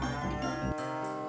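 Cows in a farming video game give a loud, close, drawn-out moo with a harmonic, droning tone that shifts pitch partway through, heard clearly with no talk.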